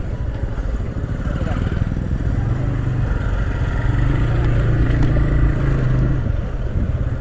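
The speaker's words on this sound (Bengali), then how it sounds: "গাড়ি আছে এরকম ডুকডুক করে রাইড করে" A motor vehicle rides slowly along a small, narrow neighbourhood road with high speed bumps. A steady, close engine rumble and road noise run continuously throughout.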